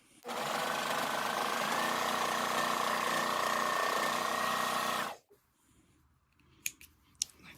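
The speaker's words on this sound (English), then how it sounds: "I'm going to take a pair of scissors and I'm just going to snip that." Scissors cut steadily through tote bag fabric for about five seconds, a loud continuous close-up shearing, then stop, leaving quiet room tone and a couple of small clicks.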